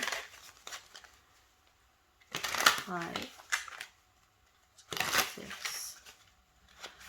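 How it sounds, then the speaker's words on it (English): Oracle cards are shuffled in two short bursts of crisp rustling and flapping, separated by quiet gaps, with a person speaking briefly in between. "I always shuffle 7 times."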